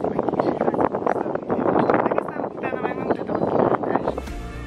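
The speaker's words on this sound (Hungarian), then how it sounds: "Nagyon szeles." Strong wind at a lookout tower on a long-distance hiking trail makes a steady, loud, gusty roar and buffeting that fills the whole stretch, with what sounds like a voice partly mixed in.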